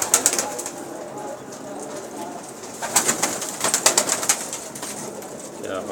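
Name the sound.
pigeons cooing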